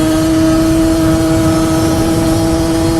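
A racing car engine in a video game Grand Prix motor race drones at a steady high pitch, loud and unbroken with no audible change in revs.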